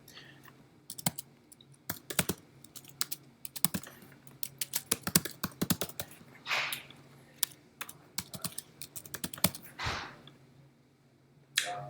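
Fingers type on a computer keyboard while filling out a registration form, with uneven bursts of crisp clicks and short pauses, close and fairly quiet with no talking.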